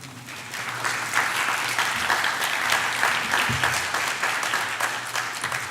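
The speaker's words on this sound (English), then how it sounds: "Please give them a round of applause" An audience applauds the families of seniors at a school senior community awards ceremony, with loud, sustained clapping from a large crowd in a hall.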